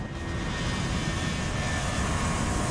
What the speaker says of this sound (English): they're given clearance for takeoff